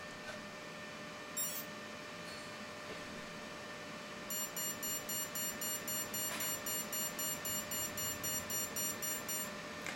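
A brushless motor ESC sounds a string of short, high electronic beeps as it enters programming mode, repeating in an even pulsed rhythm over a steady background hum, with a couple of brief chirps beforehand.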